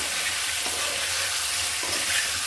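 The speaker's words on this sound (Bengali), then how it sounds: "দুটো সাহেব আলু নিয়েছি ছোটো ছোটো ছোটো পিস করে দিয়েছি ওটা আমি একসাথে ভেজে নেব" Small diced potato pieces fry together with chicken in a pan, a steady broad sizzle with a couple of soft stirring scrapes, close and continuous with no voices.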